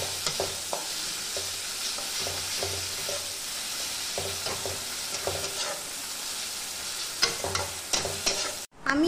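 Onions stir-fried with ginger and garlic paste in a pan, with a steady bright sizzle and a regular rhythmic scraping of the spatula, close by and with no talk.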